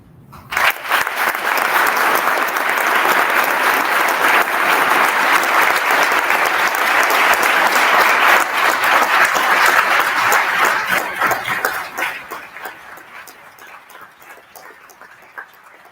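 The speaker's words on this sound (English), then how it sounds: "Thank you for that applause." An audience at a police chief swearing-in ceremony breaks into a long round of applause after a speech. Loud, dense clapping from many hands sustains for about ten seconds, then thins and fades to scattered claps.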